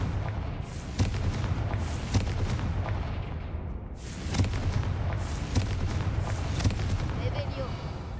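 Confringo spell blasts in the video game Hogwarts Legacy, a run of repeated booming explosions with crackling bursts over steady game noise, some rapid and some spaced about a second apart.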